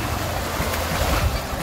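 Water current and waves at a shore where people wade, a steady broadband wash of moving water with wind buffeting the microphone, loud and close with no clear breaks.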